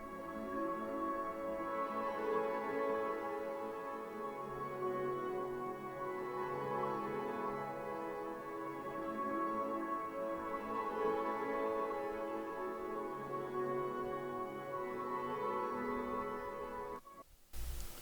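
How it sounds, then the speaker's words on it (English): Ambient piano sent through a Convolver reverb plugin, soft sustained chords washing into a long, smeared reverb tail, steady and moderately quiet, with no voices, ending in a brief cutoff. "I took that same piano that I played earlier and I sent it to a Convolver plugin"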